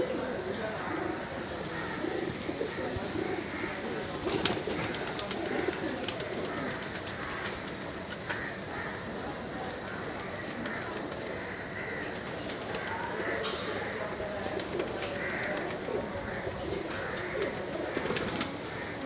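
A pair of teddy pigeons coos softly amid other birds, with occasional wing flaps and someone talking in the background throughout.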